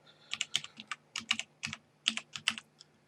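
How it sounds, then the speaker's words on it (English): Keys tapped on a computer keyboard while entering network settings during an Arch Linux installation: a brisk series of close, crisp clicks in small irregular bursts, with no voice. "you need to press the tab key here"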